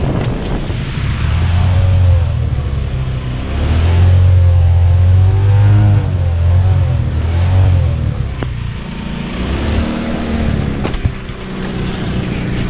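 A motorcycle engine revs loud and close while wading through floodwater, its pitch rising and falling in repeated surges with a rough, strained tone.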